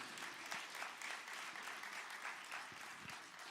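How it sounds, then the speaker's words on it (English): Audience applause at a 5th grade graduation in a church, steady dense hand clapping from a large crowd throughout, with no speech over it. "Can you give him a hand clap, please?"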